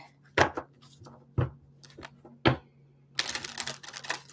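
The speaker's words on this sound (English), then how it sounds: "I want to do one more shuffle after this." A deck of cards is shuffled by hand in several quick, sharp riffling bursts with short pauses between them, ending in a longer ruffle, close and moderately loud with no talking.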